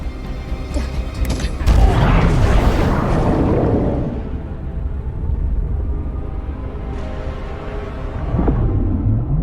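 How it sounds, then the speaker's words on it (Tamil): A deep, rumbling blast bursts out and rolls on, a heavy roar that slowly fades with a softer rumble lingering behind it. "சீக்கிரம் டேங்க வெடிக்க வைங்க."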